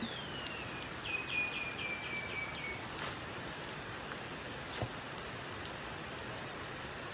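Steady, soft rain patters over a wide area with faint scattered drops, a quiet continuous hiss and no voices.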